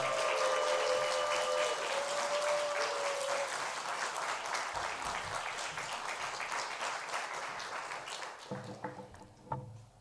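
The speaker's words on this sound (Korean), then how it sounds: "박수로 환영합니다" A church congregation applauds to welcome a visiting pastor at a Sunday service, sustained clapping that fills the sanctuary and then tapers off into scattered claps.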